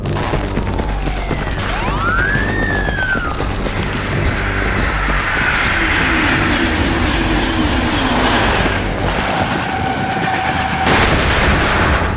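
A metro train rumbles loudly in the video game Battlefield 3, a dense continuous roar with rhythmic rail clatter, a rising metallic squeal early on and scattered sharp bangs.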